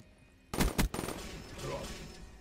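Gunfire in Black Ops 3 with the M8A7 rifle: two loud, close shots in quick succession, then a rattling burst of fire fading into echoing battle noise, with a player speaking briefly.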